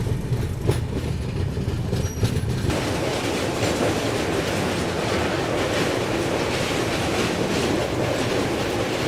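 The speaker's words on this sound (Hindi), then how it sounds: "और जल्दी ही ट्रेन कामाख्या पहुंचने वाली थी" A passenger train heading toward Kamakhya near Guwahati runs on rails past a large lake, a loud continuous rumble with steady clickety-clack heard from inside the carriage, no voices.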